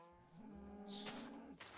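A cow in Minecraft gives a single drawn-out low moo, faint and fairly close, followed by a short hiss of rain or ambient noise.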